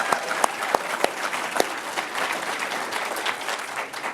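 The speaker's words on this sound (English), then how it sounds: "Give them one more round of applause." Audience at an awards event clapping, a dense, sustained round of applause from a crowd, fairly close and loud, with a few sharp individual claps standing out early on.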